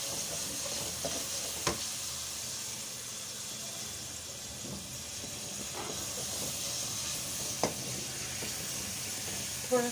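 Garlic-ginger paste stirred and fried in a pan in a home kitchen, a continuous soft hiss and sizzle with a few sharp scrapes or clinks of the spoon against the pan.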